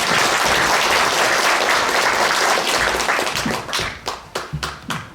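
A crowd applauds to welcome a lawyer onto the stage at a lecture event, steady dense clapping that breaks up into scattered individual claps as it dies down near the end.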